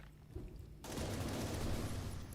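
Railgun fire in a video game, a sudden loud burst that settles into a sustained roar of discharge and rumble, close and filling the sound, with no talk.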